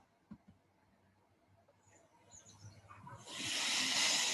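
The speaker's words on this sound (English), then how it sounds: "a hissing noise is about a threat or attack, or it is a attacking noise" A faint low rumble gives way to a loud, steady breathy hiss from a mute swan that builds and holds to the end.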